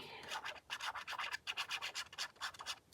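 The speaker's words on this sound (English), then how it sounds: "I'm going to sand it a little bit too, because it's very shiny." A shiny paper embellishment for a coin-envelope mini journal being sanded by hand, quiet rapid rubbing strokes in an irregular rhythm with short pauses between bursts.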